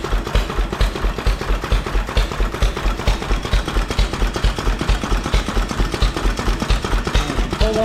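A 1931 McCormick Deering Model M 3 hp stationary engine running off a primer jug, a loud steady rapid chugging thump that repeats evenly throughout, close up with no talking.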